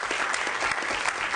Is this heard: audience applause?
yes